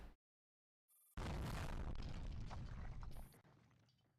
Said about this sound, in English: The ground shakes, the huge explosion sends debris flying in all directions